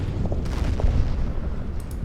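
Artillery from a StuG in the strategy game Order of Battle: Winter War fires, muffled low booms and rumbling impacts in a short burst, moderately loud with no voices.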